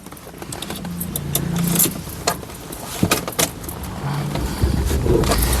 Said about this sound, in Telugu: ఒకసారి ఈ కారు సింగిల్ సెల్ఫ్లో స్టార్ట్ అవుతుందా లేదా అన్న చూపిస్తున్నాను చూడొచ్చు